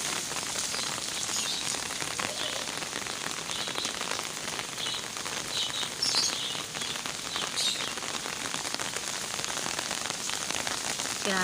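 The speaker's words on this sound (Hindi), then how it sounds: "माशाल्लाह से तेज़ वाली बारिश हो रही है" Heavy winter rain pours down steadily in Karachi, a dense continuous hiss of drops pattering on surfaces, with faint bird chirps now and then.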